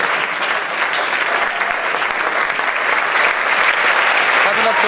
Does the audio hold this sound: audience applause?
yes